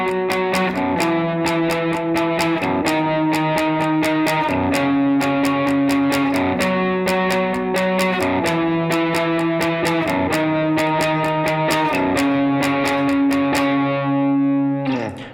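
Electric guitar octave swipes, drenched in atmospheric effects and distortion, ring out as a steady rhythmic wash of repeated strummed attacks with sustained shimmering tones throughout, loud and alone.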